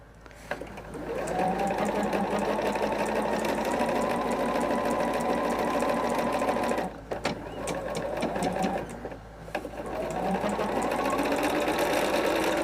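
A sewing machine stitches half square triangle quilt pieces together, running in a loud, steady mechanical whir for long stretches with two brief pauses.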